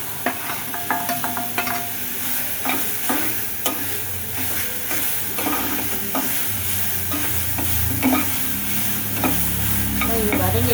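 Ginger, green chili, curry leaves and coriander sautéing in a pan for a potato tiffin, with a steady close sizzle and frequent scraping stir strokes throughout, no talking.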